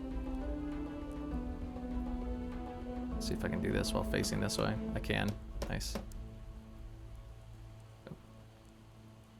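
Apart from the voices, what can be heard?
rain in video game Project Zomboid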